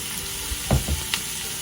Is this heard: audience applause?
no